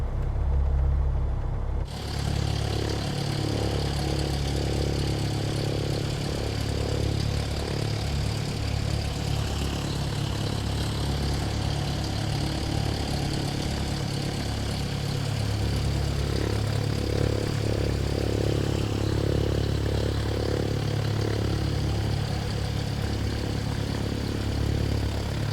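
A Diamond DA40 XLS in Microsoft Flight Simulator idles outside on a parking stand, its engine a steady propeller drone held at an even level for the whole stretch, with no talking.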